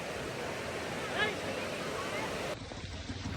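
Loud, steady roar of forceful rushing water in Lonavla during the monsoon, dense and continuous, dropping slightly in level near the end.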